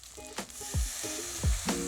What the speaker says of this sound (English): Apple cider vinegar. You could just eyeball it. That's your deglazing liquid.